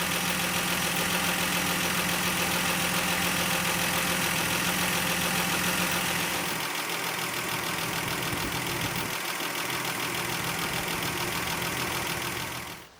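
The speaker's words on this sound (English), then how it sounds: "So now the engine is idling" A Ford Granada 2.8i engine idling during ignition timing checks, a steady close rumble with a faint knocking rhythm that holds throughout, easing slightly in the second half before stopping.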